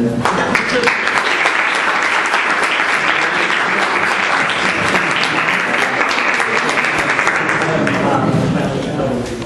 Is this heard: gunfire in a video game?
no